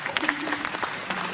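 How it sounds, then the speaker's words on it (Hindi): Audience at an awards ceremony breaks into a brief, faint burst of clapping, with a voice over it. "जोरदार तालियां।"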